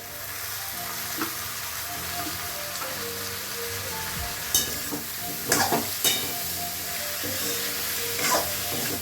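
Spiced vegetables sizzle in a pan with mustard oil, turmeric, salt and cumin powder, a steady close frying hiss broken by a few sharp scraping stirs of the spoon.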